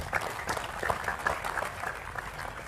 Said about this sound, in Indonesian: tepuk tangan enggak apa-apa ya